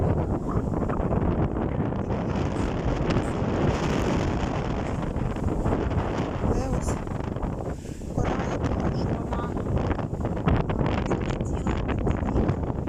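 Strong wind roars steadily and loudly across the microphone among weathered palm trees, buffeting without pause, with a faint hint of surf in the background.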